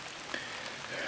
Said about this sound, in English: yeah, it's raining out